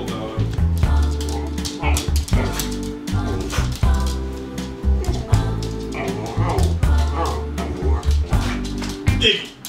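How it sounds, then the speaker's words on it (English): A dog in a kitchen yips and whimpers in short repeated bursts, close and fairly loud, mixed in with household clatter and some talk. "Film this awful dog."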